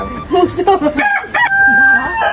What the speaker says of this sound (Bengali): মুরগিগুলা বেশি চিল্লাইতেছে, কারণ মুরগিগুলাকে এখনো খাওয়ানো হয় নাই